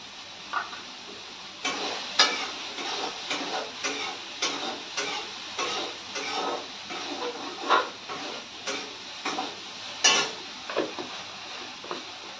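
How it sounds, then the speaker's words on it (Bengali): Salted soybeans frying slowly in a pan give off a low, steady sizzle broken by irregular crackles and ticks, a few sharper pops standing out, with no talk. "সোয়াবিনটা হইতে থাক ভাজি লাহে লাহে"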